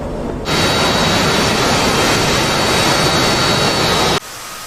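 A jet aircraft passes overhead in the DCS combat flight game, a loud broad roar that cuts in abruptly, holds steady for several seconds, then drops off sharply.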